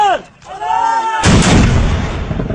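An artillery gun fires with a single loud, sudden boom followed by a long rumbling decay; a voice is heard shortly before the blast.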